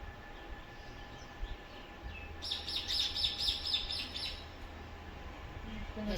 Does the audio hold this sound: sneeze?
no